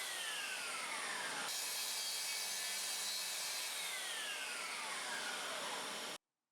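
A circular saw guided along a saw rail cuts a dado across a board, a loud, steady whine and wood-cutting roar that holds for about six seconds, then stops abruptly.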